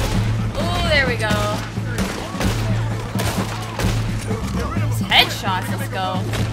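Gunfire in Red Dead Redemption 2 cracks out in several sharp shots amid a steady low drone and game noise, with an excited voice talking over much of it.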